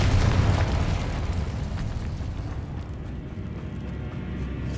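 The Confringo blasting spell detonates in Hogwarts Legacy, a loud booming explosion that hits at once and then rumbles away in a long, heavy low roar of debris.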